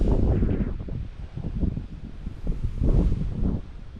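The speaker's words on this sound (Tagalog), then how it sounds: "malakas ang hangin" Strong wind buffets the microphone at a DIY greenhouse in heavy, uneven gusts, a low roaring rumble that swells and eases throughout with no voices.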